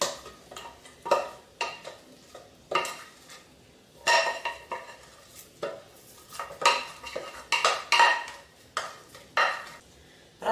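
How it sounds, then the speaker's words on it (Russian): Eggs being whisked with a honey-butter mixture for a honey cake: bursts of rapid clinking and scraping come in an uneven rhythm, close and fairly loud, with short quiet pauses between them. "Продолжаю все взбивать"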